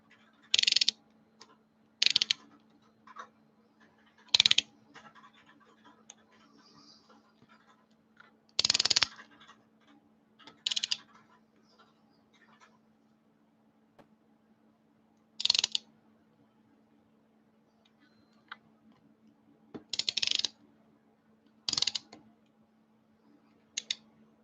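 A torque wrench tightens the RTV-sealed head bolts of a small 20V engine head to seven foot-pounds, giving isolated short clicks spaced several seconds apart over a faint steady hum in a quiet room.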